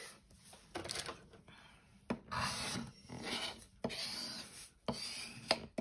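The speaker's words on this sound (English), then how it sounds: "So just give them a bit of a burnish." Burnishing glued paper pieces for a fairy tale journal craft project, soft close rubbing strokes in several separate passes, each a brief scratchy swish with quiet gaps between.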